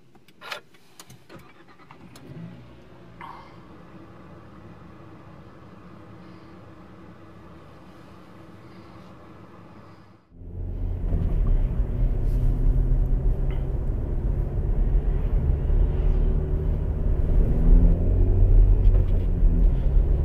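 A Nissan Pulsar car idles quietly, then the engine rumbles up loudly as it pulls away and drives on the road. A steady heavy drone of engine and road noise follows, without talk.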